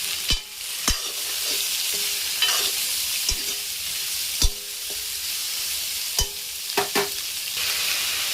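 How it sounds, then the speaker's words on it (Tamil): Ivy gourd, potato and onion sauté in a pan for a pepper fry, a soft sizzle running underneath sharp, irregular clinks and scrapes of a spatula stirring against the pan. "இதையும் நம்ம சேர்த்துடலாம். சேர்த்துட்டு நல்லா வதக்கி விட்டுடலாம்."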